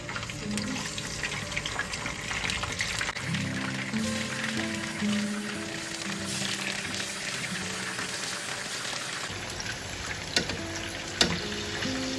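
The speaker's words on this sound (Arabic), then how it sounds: "وتوا بعد ما سخن الزيت باش نحطوا هيك البطاطا" Potatoes fry in hot oil for a Tunisian mosli dish, a steady dense sizzle and crackle that carries throughout with a few clinks of utensils near the end.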